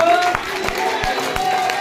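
Audience claps at a motivational talk, a crowd's scattered sharp hand claps in a loose rhythm over a continuous background hum.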